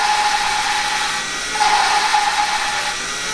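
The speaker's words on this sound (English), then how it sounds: "the grinding noise, which is the sanding of the lapping compound" A steady gritty grinding hum with a faint high whine, its intensity dropping and then rising again partway through, as lapping compound grinds an engine valve into its seat on a Honda K24Z engine.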